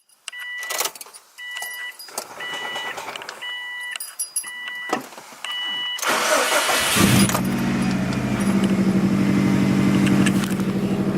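A Subaru STI engine cranks and fires after a few clicks and small handling noises, then settles into a loud, close, rumbling idle that continues steadily to the end.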